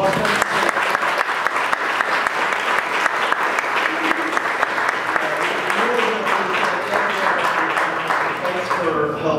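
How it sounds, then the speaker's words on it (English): An audience gives panelists a big round of applause, a dense, steady clapping that stays loud and continuous throughout, with no pauses or breaks. "We'll give them another big round of applause."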